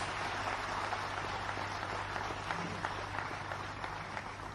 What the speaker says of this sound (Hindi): तो एक बार जोरदार तालियां हो जाए आपके लिए प्लीज